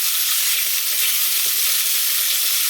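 Lamb chops pan-searing in a frying pan, a loud, dense sizzle that hisses steadily without a break, close by and with no voices over it.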